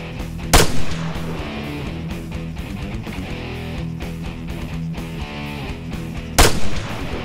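Two loud, sharp gunshot blasts echo in an ArmA 3 multiplayer battle, one near the start and one near the end, over a steady rumbling backdrop of distant combat and machinery.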